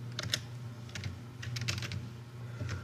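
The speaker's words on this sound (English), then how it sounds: "we type in the netstat command" Light, quick keystrokes tap on a computer keyboard as a netstat command is entered, soft and close over a low background hum.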